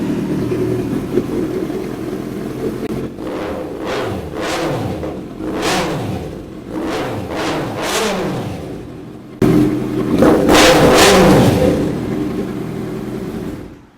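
A 2020 limited-edition Kawasaki ZX-6R superbike, nearly new, revved repeatedly in Delhi: a run of sharp rising throttle blips over a rumbling idle, then a longer, louder high rev near the end, all close and with no talking.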